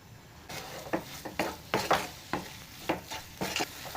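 Potato and masala filling is stirred in a pan with salt for stuffed chilli bajji. A spoon scrapes in about ten quick, close strokes over a soft, steady sizzle.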